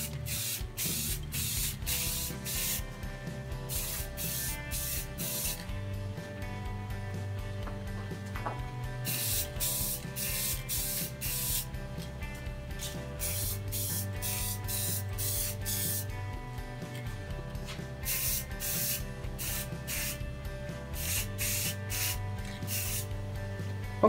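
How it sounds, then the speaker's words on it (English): Krylon gloss clear coat sprayed from an aerosol can onto a small wooden tabletop trellis, a series of steady hissing bursts with short pauses between them, close and fairly quiet. "So I'll put a few very light coats of Krylon gloss, and then the very final coat I'll follow up with a Krylon satin finish"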